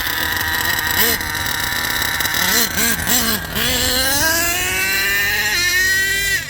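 An HPI Savage RC truck's drivetrain whines in third gear, a loud buzzing motor tone that wavers with a few throttle blips, then climbs steadily in pitch as the truck accelerates, with no talking.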